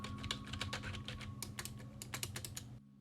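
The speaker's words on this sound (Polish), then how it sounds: "wygodnie się na niej klika, jest w miarę cicha" Steady typing on a low-profile Logitech K375s keyboard, a dense run of quick, fairly quiet plastic key clicks at close range that stops abruptly near the end.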